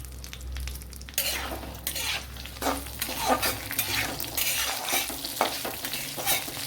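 Dried grated coconut frying in a pan for a bittergourd curry, with a steady oily sizzle broken by repeated scraping and clinking stirs of a spoon against the pan, close and moderately loud.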